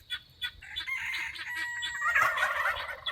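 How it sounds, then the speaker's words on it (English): Chickens and turkeys give loud alarm calls outdoors, warning of a predator; a few sharp squawks rise into a dense, continuous chorus of cackling and gobbling with no talk. "I can hear the birds alarming outside"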